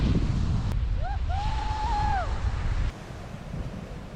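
Steady rush of wind and surf along the windward coast of a Bahamas island, with a brief whistling tone drifting over it midway, and the roar dropping a little toward the end.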